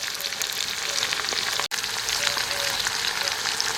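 Onion paste, chopped tomato and green chillies fry in a pan, a continuous close hissing sizzle with a brief dropout midway.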